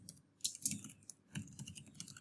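Keys tapped on a computer keyboard while entering a web address, a short burst of a few quiet, irregular clicks close by, no voices.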